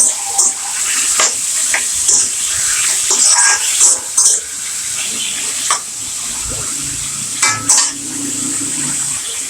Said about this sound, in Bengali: এটাও একটু নাড়াচাড়া করে নিব সুন্দর করে